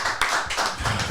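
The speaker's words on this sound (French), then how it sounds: "On applaudit." Applause from a studio audience on a French talk show, a brief burst of dense clapping heard alone.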